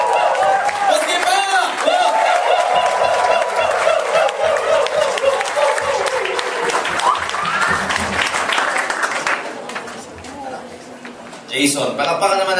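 A seminar audience claps and cheers for a featured speaker, with sustained loud applause and shouting voices that fade toward the end before a brief burst returns.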